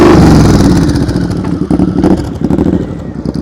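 A motorcycle engine is held on the throttle during a slow-speed riding drill, a loud, close, rough mid-pitched drone that wavers and pulses as the revs dip and recover.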